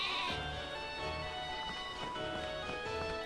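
Sheep bleat in Pokémon Sword/Shield, several wavering nasal calls repeating over a steady game music bed, close and clear with no speech.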